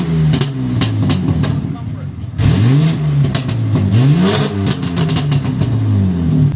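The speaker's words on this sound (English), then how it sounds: "let's get some revs" A BMW G80 M3 Competition engine revs hard again and again close by, loud rising and falling roars through a 3.5-inch modular catback exhaust, with voices talking over it.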